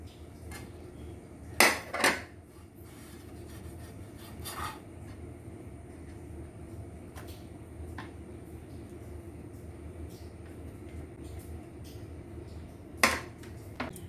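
An egg sandwich with melted mozzarella moved onto a plate, with two sharp clattering knocks of dishes early on and another near the end over a low, steady kitchen rumble.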